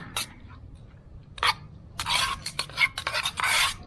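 Spoon stirs seasoned taco meat with a splash of water in a small pot on a backpacking stove outdoors, a few quick scraping and clinking bursts in a quiet gap.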